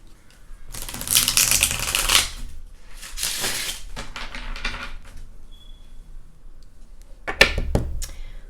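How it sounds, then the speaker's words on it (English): A deck of cards being shuffled, with several brisk riffling bursts separated by pauses, close and fairly quiet, with no talking. "It's going to be a struggle to shuffle these, but let me try."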